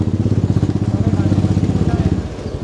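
A scooter comes up from behind on a busy city street, its engine close and loud with a rapid put-put beat, then thins out and fades near the end.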